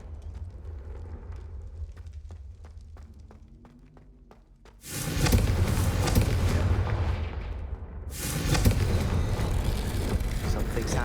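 Confringo blasting spells detonate in Hogwarts Legacy, two heavy explosive bursts several seconds apart after a quieter stretch of footsteps, each a loud sustained rumble filling the scene.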